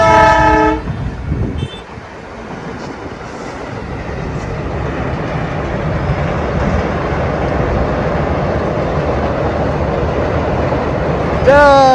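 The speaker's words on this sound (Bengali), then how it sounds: "ট্রেন চলে গেল" A train rumbles steadily past a roadside stop on a bike trip, its long broadband roar swelling and holding, with a horn blast at the start and again at the end and voices briefly audible early on.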